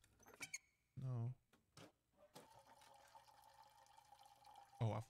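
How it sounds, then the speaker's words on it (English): Toilet flush in the horror game Layers of Fear, a brief gurgling rush of water against a quiet background, broken up by a man's close-miked talking before and after. "Oh, I flushed the toilet."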